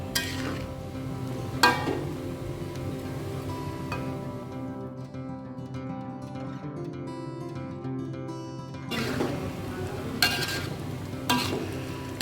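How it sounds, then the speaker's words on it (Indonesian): Cucumber and egg stir-frying in a pan, a steady low sizzle with occasional scraping clinks of a utensil against the pan, close by and with no talking. "Masak sampai timunnya ini empuk ya."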